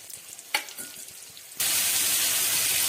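Spice masala is sautéed in a pan with a little water. Faint kitchen clatter and a sharp clink come first, then a loud, steady, close sizzle suddenly takes over and continues.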